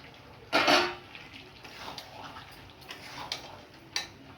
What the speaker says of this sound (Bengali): এবার আমি আলুটা দিয়ে দেবো।